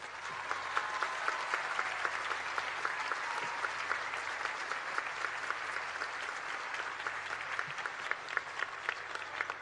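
A political audience in Mexico gives a sustained round of applause for the president, an even, dense patter of many hands at moderate distance with no speech.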